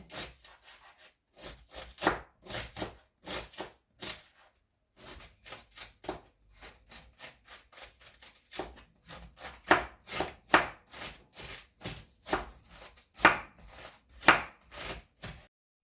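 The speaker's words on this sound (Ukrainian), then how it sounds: "Шинкую так дрібненько капусточку." A knife finely shreds young cabbage against a cutting board, rapid, steady, dense rhythmic strokes with brief pauses, close by and fairly quiet, no talking.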